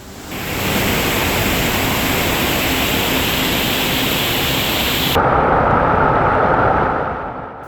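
Meenmutty waterfall in Wayanad roars as a loud, steady broadband rush of falling water, unbroken from start to end, with a slight shift in tone near the close.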